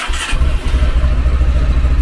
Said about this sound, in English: this is the moment he's going to press the start on the bike